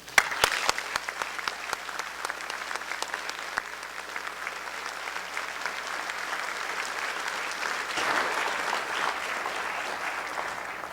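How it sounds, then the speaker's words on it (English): An audience applauds warmly for a physicist introduced at a public lecture on antimatter, a dense, steady wash of many hands clapping that holds for about eleven seconds and swells slightly near the end, with no voices over it. "thank you for the applause"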